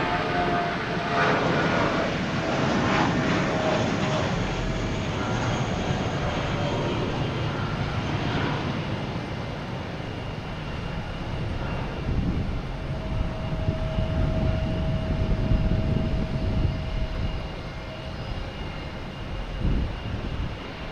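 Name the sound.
airplanes landing at Boston Logan Airport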